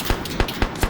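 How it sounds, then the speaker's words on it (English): Suppressive automatic gunfire in an Arma 3 large-scale PvP battle: four quick, evenly spaced shots crack out in under a second, with no voices over them. "You're hearing some suppressive fire at the moment."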